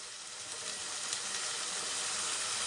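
Capsicum frying with mint in a hot pan, a steady close hissing sizzle that holds evenly throughout and ends with a brief knock.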